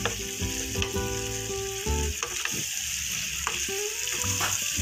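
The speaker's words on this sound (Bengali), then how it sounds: "আর 4-5টা গোটা কাঁচা লঙ্কা দিয়ে এবার এটাকে একটু ভালো করে নাড়াচাড়া করে নেব" Crushed green chilli, ginger and garlic with whole green chillies are stirred in a hot pan, a close, steady sizzle with scraping strokes and clinks from the spoon.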